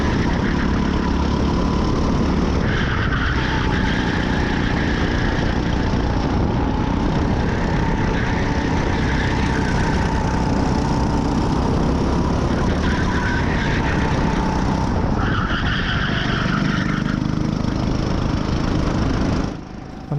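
Racing kart engine during a practice session on track, a Tamworth N35-ST kart at Daytona, buzzing continuously and loudly throughout, with pitch rising and falling as it accelerates and lifts through corners.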